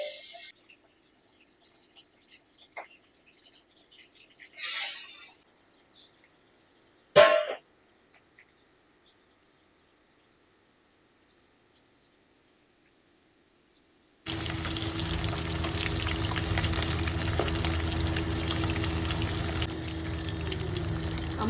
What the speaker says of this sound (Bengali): আমার কড়াইয়ের তেল গরম হয়ে গেছে, এবার আমি মাছ ছাড়বো